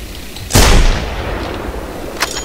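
A single .50 caliber rifle shot in the hunting game theHunter: Primal, one loud close booming blast that decays into a rumbling tail, with a fainter sharp sound near the end.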